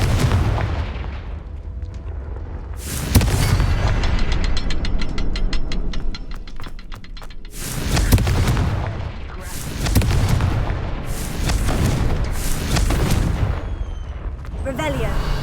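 Confringo fire spell from Hogwarts Legacy, a series of loud booming blasts with crackling, mechanical bursts, repeating roughly every couple of seconds over game ambience.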